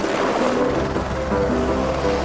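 A helicopter owned by a wealthy businessman gives a loud, steady, close whir of rotor and engine noise that fills the whole brief moment without a break.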